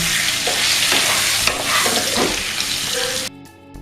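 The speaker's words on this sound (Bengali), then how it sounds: "আলুতে দিয়ে দিচ্ছি 1/2 চামচ মতন লবণ, 1/2 চামচ হলুদ আর অল্প একটু লঙ্কার গুঁড়ো দিয়ে আমি আলুটাকে একটু ভেজে নেব" Potato pieces seasoned with salt, turmeric and chili powder fry in hot oil, giving a loud, dense sizzle with stirring scrapes that drops away abruptly near the end.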